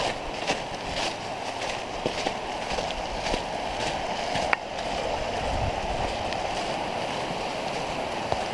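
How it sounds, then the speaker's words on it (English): Small cascades on a forest stream in Loyalsock State Forest, along the icy Ketchum Run loop, giving a steady rushing babble with a few faint clicks from nearby. "Got these nice little cascades coming down through here."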